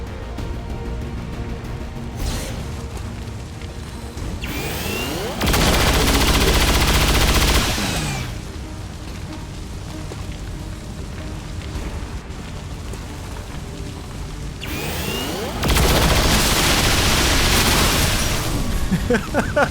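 Rapid fire from XCOM 2 rips into an Andromedon shell, two loud bursts of dense gunfire separated by quieter battlefield noise and rumbling impacts, with a voice talking in between.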